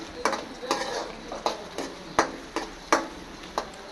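Garlic and greens fry in a pan while being stirred, a low sizzle under a regular series of sharp spatula scrapes and clinks against the pan.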